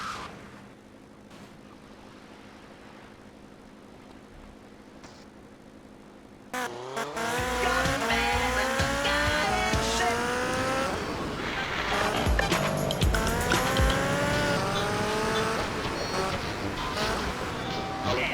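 A car driving in GTA Vice City, first quiet, then a sudden loud surge of engine roar with rising and falling revving and squealing tires that keeps on, close and dense.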